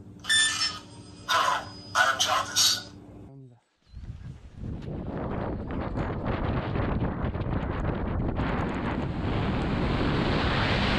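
After a few seconds of electronic beeping tones and a brief pause, strong wind roars into the microphone, rising and staying loud to the end.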